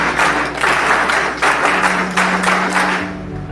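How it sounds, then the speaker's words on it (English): An audience breaks into sustained applause, many hands clapping in a dense, even wash that swells slightly in waves and holds throughout, with a faint low hum beneath in the later part. "So give him a huge round of applause."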